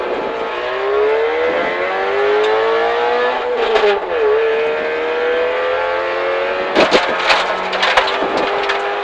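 Rally car launching from the start line at the Teijo-Talot Ralli in Perniö, Salo, its engine revving hard and climbing through the gears, loud and close at first and then receding, with sharp crackles and bangs toward the end.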